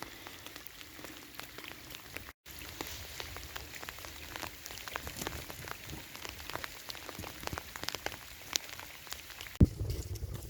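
Steady rain falling on an estuary shore, a dense hiss of drops spattering on water and mud, constant and close, with no talk.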